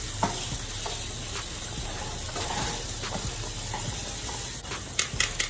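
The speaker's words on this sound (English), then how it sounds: "we got our sausages sizzling over here" Sausages frying in a pan on a home stovetop, a steady close sizzle with occasional clinks and stirring scrapes, no talk over it.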